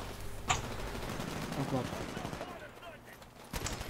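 Gunfire rings out in the video game Titanfall during a deathmatch: a few sharp shots and rattling bursts sit under a man's muttered, excited speech against a busy game-sound background.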